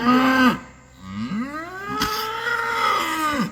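Cows mooing at close range on a farm, two or three long, loud, low bellows in quick succession with rising and falling pitch, with no talking.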